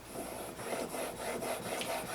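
A blade bevel honed on a well-lubricated 800 grit sharpening stone in a honing guide, steady back-and-forth rasping strokes at an even rhythm, close and moderately loud, no voices.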